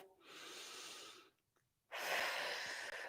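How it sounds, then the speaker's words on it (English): Two long, soft breaths during a seated chair-yoga stretch, a quiet inhale then, after a short pause, a fuller and louder exhale, close and steady with no talking. "One more deep breath"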